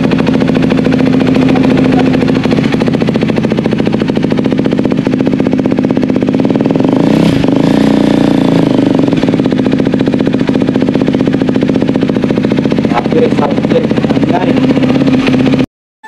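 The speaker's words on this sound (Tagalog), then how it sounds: "soundcheck na muna natin mga parikoy itong SC Project muffler" A single-cylinder big bike fitted with an SC Project muffler and its resonator still installed revs loudly and steadily for about sixteen seconds, a dense rumbling drone that swells with throttle blips before cutting off abruptly.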